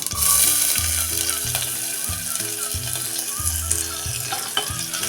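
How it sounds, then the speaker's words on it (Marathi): Chopped onion with mustard seeds and cumin sautés in a pan, a steady sizzle under repeated clicking and scraping from stirring, with music playing. "कांदा हा थोडासा मऊसर होईपर्यंत परतून घ्यायचा आहे"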